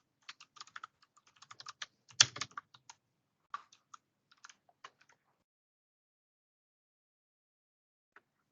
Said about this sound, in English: So I will go ahead and type in the answer here.